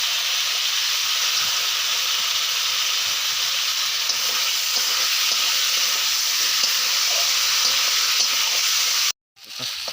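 Chicken meat being sautéed in a wok over a wood fire makes a loud, continuous hiss and sizzle with stirring, then cuts out abruptly near the end.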